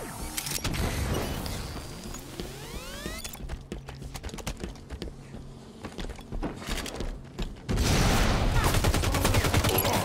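Bursts of Halo 5 gunfire in a Team Doubles match, clustered volleys early on, a quieter stretch with scattered shots, then a sustained loud barrage near the end, mixed with game effects and some talking.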